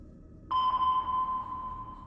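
Electronic device emitting a steady high-pitched beep that starts abruptly after a brief quiet moment and holds continuously, loud and close, with no speech.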